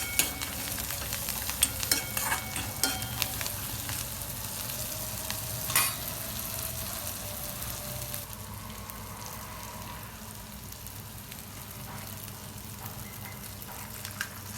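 Egg bhurji with coriander sizzles and fries in a pan while being stirred, a steady close hiss with occasional scraping clicks, louder at first and easing slightly later.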